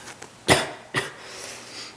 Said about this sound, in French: Je suis tannée d'avoir ma toux.